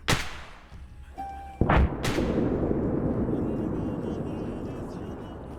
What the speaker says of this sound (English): You're hearing more bombs being dropped over here in artillery